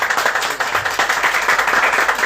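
Audience applauding at a public draw announcing the Lopé National Park in Gabon: a dense, steady burst of many hands clapping, moderately loud and continuous, with no voices over it.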